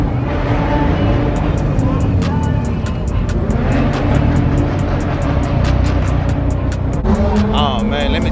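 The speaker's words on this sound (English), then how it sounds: "These boys here doing donuts and everything" Cars do donuts at a Houston car meet, with engines roaring continuously and loudly, tires squealing and a crowd murmuring throughout.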